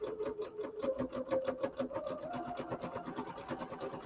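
A sewing machine stitches through a filled pillow in a steady rapid run of needle strokes, close and fairly loud, with no one talking.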